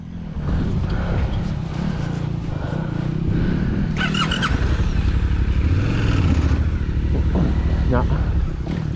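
A Suzuki V-Strom 800DE motorcycle rides off-road on sloppy, muddy ground after a crash into a stump, its engine droning and revving steadily throughout, with scrapes and clatter mixed in and someone talking over it.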